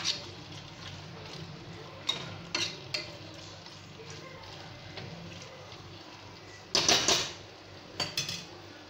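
Chicken coated in ginger garlic paste stirred in a pot for chicken kulambu, heard as scattered soft scrapes and taps of a spoon against metal, with a louder clattering burst near the end over a low background hum.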